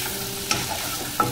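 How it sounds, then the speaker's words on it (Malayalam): Dried chillies, chana dal and onion fry together in a pan for a masala dosa filling, giving a soft, steady sizzle with two quick clicks from a stirring spoon. "മുളക് ഒന്ന് നന്നായിട്ട് മൂക്കണം. നമ്മളിട്ടിരുന്ന കടലപ്പരിപ്പും നന്നായിട്ട് മൂക്കും. സവോള ഒന്ന് വഴന്നാൽ മാത്രം മതി."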